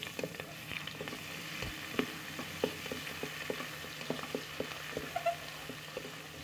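Green chilli and garlic sizzle in a hot pan with oil, a continuous soft frying crackle broken by regular scraping taps of a spoon stirring, close and fairly quiet, with no speech.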